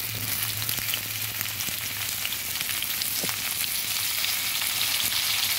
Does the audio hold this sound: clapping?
no